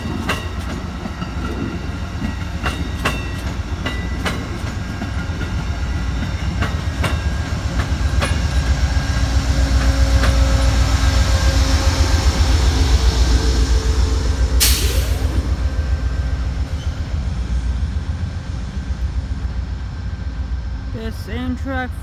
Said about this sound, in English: Amtrak 471 Valley Flyer.